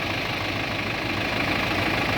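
A John Deere 5615 tractor engine idles steadily up close, a continuous low rumbling throb with no other sounds.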